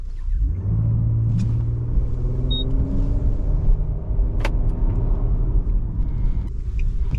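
A Nissan Murano's engine rumbles steadily with a low, droning tone that rises slightly as it accelerates, heard from inside the cabin with no talking.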